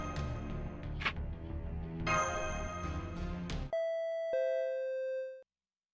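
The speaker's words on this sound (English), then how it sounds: "Oh, that's the doorbell." A doorbell chime sounds in the game Fate: Grand Order, a clear two-tone ding-dong following a stretch of background music and effects, ringing out close and loud before fading away.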